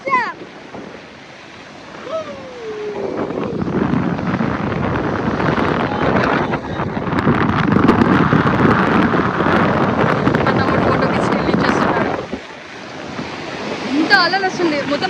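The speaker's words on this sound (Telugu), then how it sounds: "చాలా బాగా అల్లలు వస్తున్నాయి, ఎంత బాగా వస్తున్నాయి చూడండి అల్లులు" Strong sea waves surge and break at Dhanushkodi near Rameswaram, with gusting wind buffeting the microphone in a loud, continuous roar that swells and eases over the seconds, with faint bird calls at the edges.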